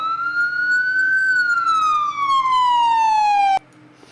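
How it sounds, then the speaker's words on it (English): A police car siren in a police simulation video game wails steadily, its pitch rising then slowly falling, loud and close, cutting off abruptly near the end. "Let's hit the siren."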